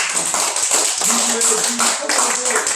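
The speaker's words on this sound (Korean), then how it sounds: "하나님께 영광의 박수를 올립니다" A church congregation applauds during a Thanksgiving harvest service, with dense, close rapid clapping while voices carry on over it.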